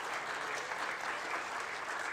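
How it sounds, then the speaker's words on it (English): Steady, dense audience applause at a city council member's inauguration ceremony, loud and continuous throughout with no speech over it. "They deserve a round of applause."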